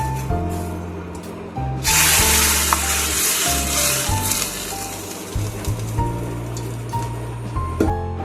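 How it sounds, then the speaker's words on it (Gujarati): Hot tempering of oil with asafoetida and garam masala poured into Gujarati kachori dal, bursting into a loud, steady sizzle that holds for several seconds after a brief quieter start. "આપણો વઘાર છે એ રેડી છે. એને આપણે દાળની અંદર એડ કરી લઈએ."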